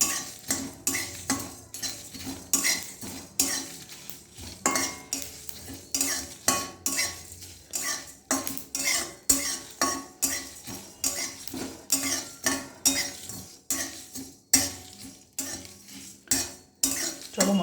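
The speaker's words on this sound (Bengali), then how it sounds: "জালটা খুব আস্তে দিতে হবে, দিয়ে ভাজতে হবে" Spice masala dry-fries over low heat in a pan while a utensil stirs it, giving rhythmic scraping clinks against the metal. The sound is close and fairly quiet, and no one talks.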